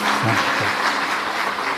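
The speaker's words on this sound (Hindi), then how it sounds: "एक बार जोरदार ताली बजाकर।" An audience at a Shiv Mahapuran religious discourse in Kashi breaks into loud applause, a dense continuous wash of clapping lasting under two seconds, with a voice briefly audible at the start.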